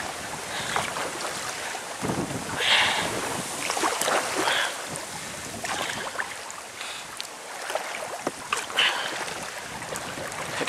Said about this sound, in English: Sometimes the wind's behind me, sometimes it's in front of me.